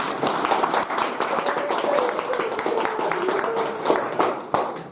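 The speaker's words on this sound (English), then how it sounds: "So round of applause all around." Audience applause at a Make-A-Thing event, close and fairly loud clapping from a small crowd with dense irregular hand claps running throughout, with no voices over it.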